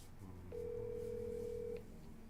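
A single steady telephone tone sounds for just over a second during an outgoing call, clean and even, then cuts off, with faint room noise before and after.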